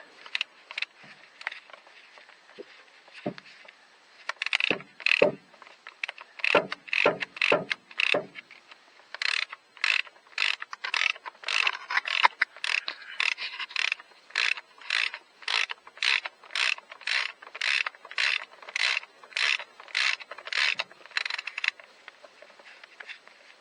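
Ratchet wrench loosening a gearbox bolt on a Renault Megane 4 RS Trophy with EDC DW6 gearbox, giving close, sharp clicking bursts, first in short irregular strokes, then a long steady run of rhythmic ratchet clicks.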